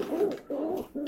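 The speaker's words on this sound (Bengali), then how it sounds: "আমার পছন্দের মাকড়া কবুতর" Rooftop pigeons coo close by in three rounded, throaty phrases separated by short pauses.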